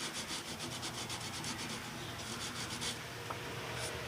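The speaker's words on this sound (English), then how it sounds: "I'm going to just very lightly sand that." Acoustic guitar nut being lightly sanded with 400 grit sandpaper, giving a run of quick, even rubbing strokes that pause briefly and then resume, close and fairly quiet with no talking.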